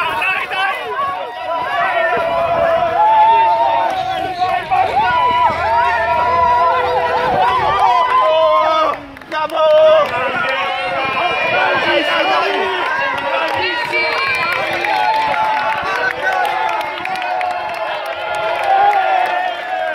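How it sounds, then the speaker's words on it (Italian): Dense crowd noise from spectators cheering marathon runners along the Florence Marathon course, loud and sustained with overlapping shouts and voices throughout. "Grande tifo per lui."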